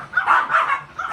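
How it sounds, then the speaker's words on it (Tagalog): A dog barks and yips a few times nearby in a Filipino household, the sharp calls coming in quick succession and fairly loud. "Ano nga aso ah?"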